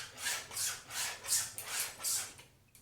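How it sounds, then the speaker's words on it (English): Japanese straight razors are scrubbed dry with a cloth, making about six rhythmic rubbing strokes, close and moderately loud, with no voices. "So when I finish, I always like to scrub my razors to keep the edge dry."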